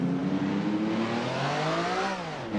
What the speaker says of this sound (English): It is actually sounding like a race car,